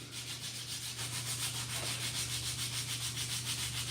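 Trim being sanded by hand to take off saw marks during a home renovation, a steady continuous rubbing scrape with a rhythmic back-and-forth pulse, close and alone.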